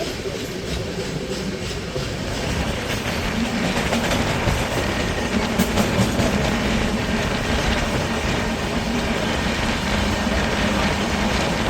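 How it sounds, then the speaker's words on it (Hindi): The Punjab Mail, a Mumbai–Ferozpur passenger train, rolls into Morena Junction with a loud, continuous rumble and rattling carriages, the steady rail noise carrying on for several seconds with no talk. "फाइनली गाइस 1 घंटे के डिले के साथ अपनी ट्रेन मुरैना जंक्शन पे पहुंचने वाली है।"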